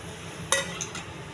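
Chana dal and urad dal frying in oil in a pan, a soft steady sizzle with a few light metallic clinks from stirring.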